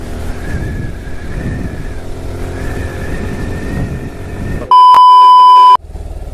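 A Suzuki Gixxer motorcycle rides at high speed, a steady loud engine and wind roar that gives way to a sharp electronic beep for about a second before the riding noise returns.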